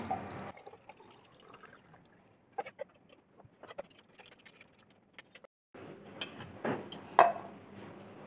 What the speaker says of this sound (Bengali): সরটাকে আমি ছেঁকে আলাদা করে নিচ্ছি।